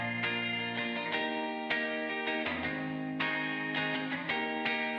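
Chiming chords from a Fender Coronado II electric guitar ring out with a wash of reverb, each strum sustaining and blending into the next at a steady, moderate pace.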